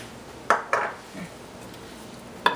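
A spoon clinks sharply against the side of a bowl while a tomato salad dressed with olive oil is stirred, three or four bright knocks spaced apart with soft shuffling in between.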